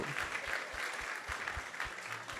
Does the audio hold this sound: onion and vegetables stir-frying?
no